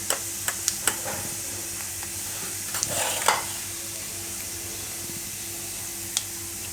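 Cumin seeds and asafoetida sizzle in hot oil, a soft, steady frying hiss with a few sharp clicks and pops, plus brief scraping as the spice is stirred.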